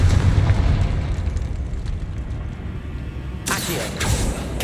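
A Confringo blasting curse in Hogwarts Legacy, a rumbling explosion that rolls and fades over several seconds, followed by two sharp crackling bursts near the end, fairly loud with no talk.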